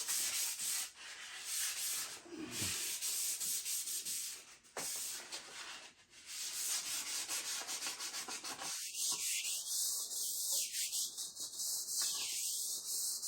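Hickory wood rubbed with 600 grit sandpaper, close, dry scratchy strokes at first, then a steady rhythmic back-and-forth rasp in the second half.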